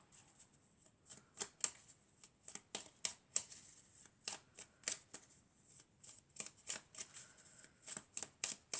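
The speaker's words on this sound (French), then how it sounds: "On va mélanger encore." Tarot cards being shuffled by hand in a quiet room, crisp riffling snaps and flicks in an irregular rhythm, close and fairly soft, with no talking.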